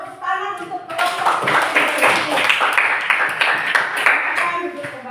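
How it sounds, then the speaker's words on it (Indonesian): A classroom of students clapping for a student group, dense overlapping applause spreading across the room and holding steady, with voices mixed in underneath. "mari kita memberikan tepuk tangan untuk kelompok"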